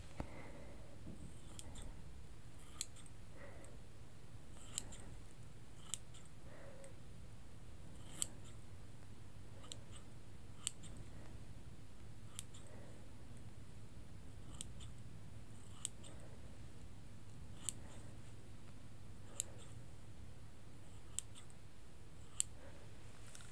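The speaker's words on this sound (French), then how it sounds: "Je reprends mes ciseaux et je vais couper." Scissors snip through hair in a quiet ASMR self-haircut, about fifteen crisp, close snips spaced roughly a second or two apart over a faint steady hum, with no talking.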